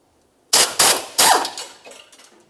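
A wrench removes the last mounting nut inside the engine compartment of a 1994-2002 Dodge Ram 2500. A few sharp, loud metallic impact bursts are followed by fading rattling and clanks.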